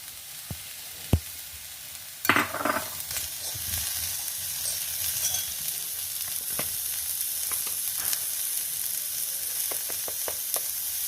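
Mustard seeds splutter in hot oil for a Kannada-style beetroot palya, a steady bright sizzle with scattered sharp pops and crackles throughout, close by with no talking.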